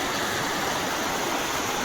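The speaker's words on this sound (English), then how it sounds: "Then I can see the other side of the waterfall." A jungle waterfall in Thailand roars in a steady, dense wash of falling water, loud and close, with no voices over it.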